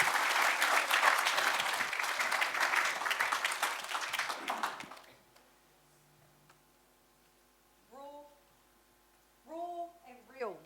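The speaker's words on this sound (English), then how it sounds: "Give our sister another round of applause for being just raw." Audience applause fills a Hawke's Bay community talk gathering, loud and sustained clapping for about five seconds before fading out, followed by quiet room tone and short bursts of speech.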